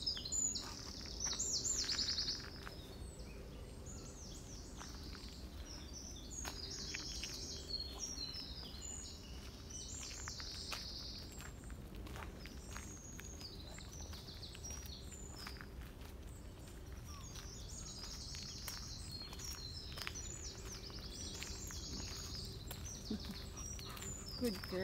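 Birds singing on a golf course, bright chirps and tweets scattered throughout over a steady outdoor hum, with footsteps and faint voices in the background.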